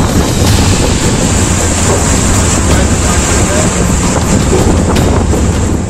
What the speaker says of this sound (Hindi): समुद्र की तेज लहरों की टक्कर से जब बोट में पानी तेजी से भरने लगा